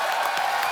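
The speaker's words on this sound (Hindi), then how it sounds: "इरफान भाई के लिए जोरदार तालियां।" Studio audience on a comedy talk show applauds, a brief dense burst of clapping and cheering, steady and close throughout.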